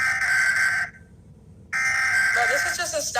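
A U.S. Emergency Alert System alarm plays as a loud, sustained two-tone electronic attention signal that cuts out briefly and resumes, with a voice starting to talk over the end.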